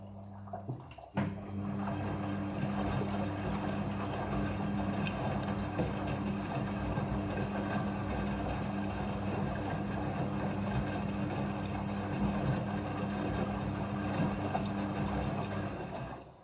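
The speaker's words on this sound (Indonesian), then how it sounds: "Setelah proses pemerasan selesai, masuk ke proses pembilasan air yang kedua." A Midea front-loading washing machine rinses jeans, its drum filling and churning with water in a steady, continuous wash after a brief bump at the start, with a low hum running underneath throughout.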